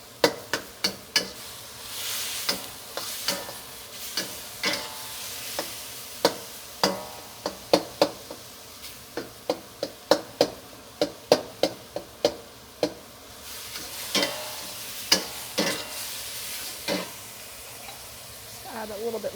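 Ground chicken being broken into crumbly pieces in a hot wok for Thai basil chicken: a close, irregular string of sharp metal spatula knocks and scrapes over a faint sizzle.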